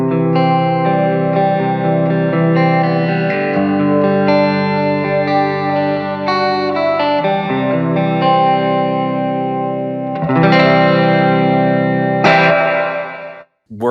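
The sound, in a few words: guitar through Cumulus 3-way plate reverb pedal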